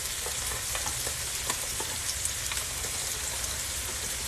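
Curry powder goes into a hot frying pan for a shrimp and squash curry and is stirred, producing a continuous dense sizzle with scattered light scraping and tapping, near and fairly loud.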